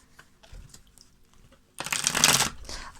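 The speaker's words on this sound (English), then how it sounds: "watching me shuffle through an entire deck of cards" A deck of tarot cards is riffled close up in a quick, papery burst of about a second, after soft handling taps and shuffles.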